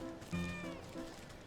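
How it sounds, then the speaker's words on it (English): A cat meows in the video game Wytchwood, a couple of quiet tonal mews over soft background game music. "Oh, the kitty cat."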